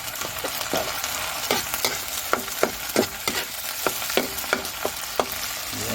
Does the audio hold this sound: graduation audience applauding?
no